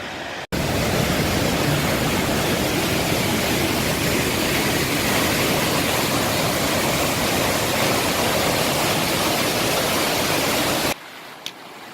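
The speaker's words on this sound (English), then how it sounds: "Stunning waterfall though, stunning." A steady, loud roar of falling water runs unbroken for about ten seconds, then cuts off abruptly.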